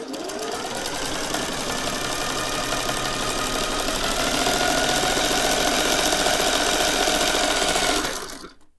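A Singer 401A sewing machine stitches at stitch length 1 with a fast, loud, steady mechanical whir. It keeps going for about eight seconds, then winds down and stops.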